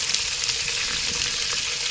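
Prawns fry in a pan with a steady, close, broadband sizzle that holds evenly throughout, with no voices.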